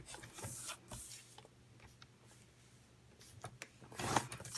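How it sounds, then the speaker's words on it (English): A paper trimmer scores black card at one inch. Faint, close sliding rubs and soft scrapes as the blade runs along, with a slightly louder swipe near the end and no one talking. "So I'll just get my trimmer. I know black is a little bit hard to see, but I am just scoring it at 1 inch."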